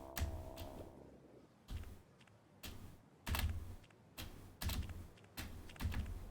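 Computer keyboard keys pressed in quick clusters while playing the game Frog Space, with short rapid bursts of clicking separated by brief pauses, close and fairly quiet.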